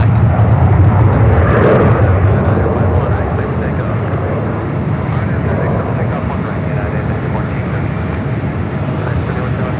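A KLM Boeing 777-300ER jet rumbles steadily just after pushback at San Francisco airport, a loud, continuous broadband engine roar with low-frequency weight, fairly close and unbroken throughout.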